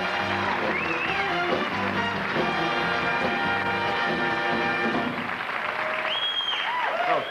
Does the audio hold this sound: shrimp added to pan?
no